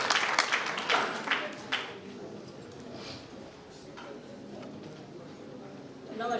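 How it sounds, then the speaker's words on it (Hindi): Audience applause greets a guest speaker at a seminar marking Rani Lakshmibai's birth anniversary, opening with strong clustered claps that thin into a softer patter under murmuring voices. "एक बार जोरदार तालियां।"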